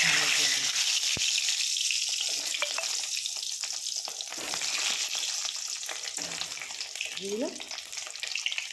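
Vegetables for a green pea pod curry fry in hot oil in a wok, producing a loud, continuous sizzle with stirring scrapes up close and a brief faint voice near the end.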